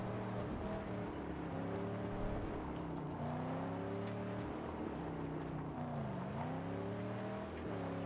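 Car engine in the Mad Max video game revving and shifting steadily through gears, pitch rising and dipping with acceleration over continuous driving noise, loud and close with no talk.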